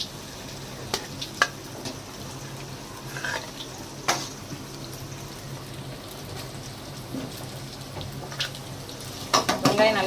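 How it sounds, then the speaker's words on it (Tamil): Chopped onions sauté in a pan for goat meat, giving a continuous sizzle broken by scattered clinks and stirring scrapes, with a busier clatter near the end. "முதல் வெங்காயத்தை போட்டு நல்லா வதக்கிடணும்"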